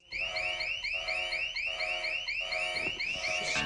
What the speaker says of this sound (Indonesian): ternyata alarm bank itu masih tetap bisa berbunyi